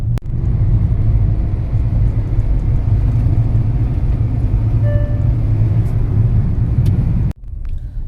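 A car driven hard at speed, its engine and road noise a loud, steady low rumble that runs continuously before cutting off abruptly near the end.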